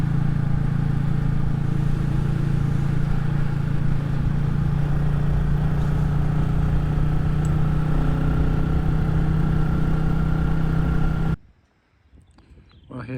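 Royal Enfield Classic 350 motorcycle riding along near the Clywyn Dam, a steady low engine drone with wind noise held loud and even, then cutting off abruptly near the end, leaving quiet with faint rustling.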